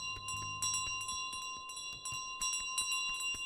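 Bell ringing in Untitled Goose Game, a clear metallic bell struck over and over in a rapid, uneven rhythm with sustained ringing tones between hits.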